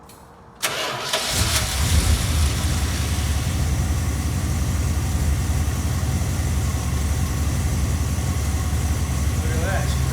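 A barn-find Dodge Charger that had sat for 26 years cranks briefly, catches and fires up, then settles into a steady, loud, rumbling idle that holds for the rest of the time.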